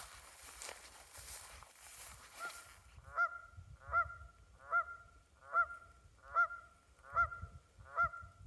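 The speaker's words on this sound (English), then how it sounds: "That's a Canada goose saying" A Canada goose in the Snowdonia mountains honks about seven times in a steady, evenly spaced series, fairly close. Windy, rumbling outdoor noise comes first.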